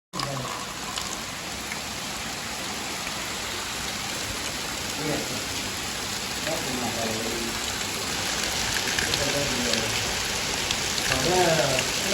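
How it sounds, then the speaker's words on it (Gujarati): Heavy monsoon rain pours steadily through Gir forest, a dense continuous hiss that swells slightly toward the end, with faint voices audible beneath it. "મિત્રો વરસાદ થઈ ગયો ફૂલ ચાલુ જો બતાવું તમને"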